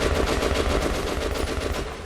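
Sustained automatic gunfire in the post-apocalyptic shooter Metro Last Light, loud rapid bursts rattling continuously for about two seconds with no speech over it.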